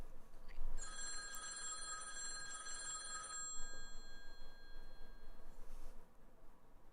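Old-style telephone bell ringing for an incoming call, a bright trilling ring for a few seconds that cuts off, then a fainter second ring, under a low background hiss and no talking.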